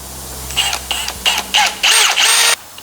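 A power drill boring into aluminum while building a snowmobile, heard as about six loud, close bursts of whirring that start and stop, the last one held longest.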